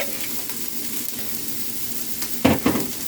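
Diced onions and peppers fry in a pot with a steady, soft sizzle, joined near the end by a couple of louder clatters from stirring.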